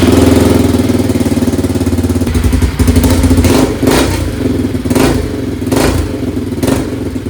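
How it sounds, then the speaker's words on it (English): Yamaha DS650 quad with its old muffler running loud and close, a steady rattling idle followed by several sharp revving bursts at roughly regular intervals. "I'll throw a clip in right here of what this thing sounded like with the old muffler when we started it up"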